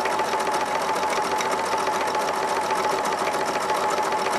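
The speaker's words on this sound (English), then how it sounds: "now I'm just sewing right down the middle of that 1-inch strip, and it ruffles it up very nicely." A sewing machine fitted with a gathering foot runs a fabric strip into a ruffle, giving a continuous rapid mechanical whirr at steady speed, close and alone without talk.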